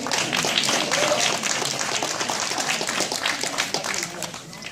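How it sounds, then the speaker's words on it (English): A debate audience applauds loudly and steadily, with some voices mixed in, tapering slightly toward the end. "give him a round of applause"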